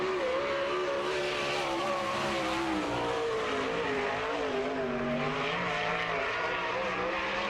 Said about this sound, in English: Hard on the throttle, showing no mercy to the Lawrenceburg Speedway is Keegan in the number 92K.